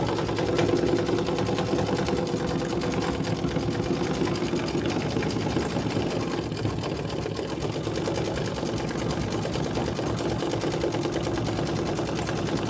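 A sewing machine hums and buzzes continuously at close range as it sews a satin stitch around a leaf on a Thanksgiving table runner, a dense, even rattle with no pauses and no voices.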